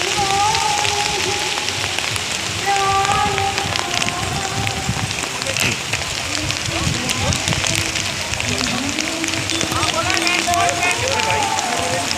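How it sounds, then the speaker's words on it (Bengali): Heavy rain pouring down on an Amarnath Yatra pilgrimage route, a dense, loud, continuous patter on surfaces with people talking over it. "প্রচণ্ড বৃষ্টি হচ্ছে"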